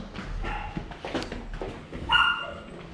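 A dog yips and whimpers a few times, fairly close, with a sharper bark-like burst near the end over low background rumble.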